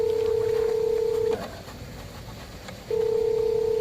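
A phone call in progress: a steady ringback tone plays, breaks off for about a second and a half, then resumes, loud and close.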